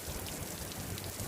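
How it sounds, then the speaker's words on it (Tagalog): Heavy rain in Dubai pours in a dense, continuous wash of drops hitting surfaces, steady and close with no voices. "Lakas na naman ng ulan."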